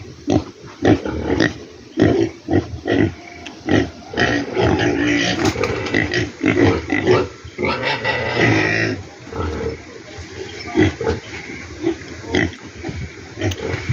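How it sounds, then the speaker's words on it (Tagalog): Pigs on a pig farm during the rainy season grunt and squeal repeatedly, loud and close, in a busy overlapping chorus for the whole stretch. "kung kagaya ko kayong nag-aalaga ng baboy sa ganitong panahon ng tagulan"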